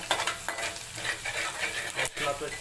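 Garlic and dried kilis fish sautéing in hot oil in a pan for an Agri-Koli style dry fish curry, a continuous loud sizzle with scraping stirs and a brief clatter near the end.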